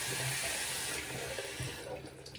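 Warm tap water runs from a bathroom faucet to wet the end of a towel, a soft steady stream heard faintly and close, continuing without interruption.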